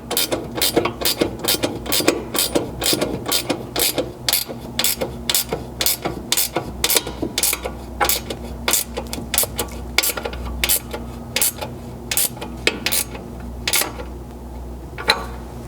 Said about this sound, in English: This flex head ratcheting wrench works really well.